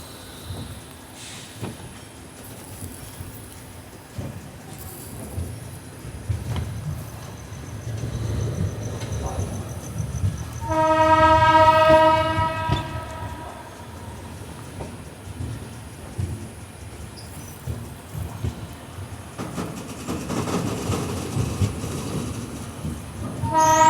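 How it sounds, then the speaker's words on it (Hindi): Inside the Mumbai–Amravati Superfast Express, the train rumbles steadily along the track while a horn sounds midway, rising clearly over the running noise. "अभी हमारी ट्रेन स्किप करने जा रही है जलम जंक्शन को"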